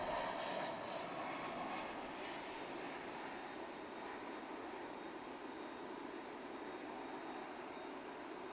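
An American Airlines Boeing 737 arriving at DFW International Airport, a broad, distant engine roar and rushing hum that stays steady and slowly fades, with no voices over it.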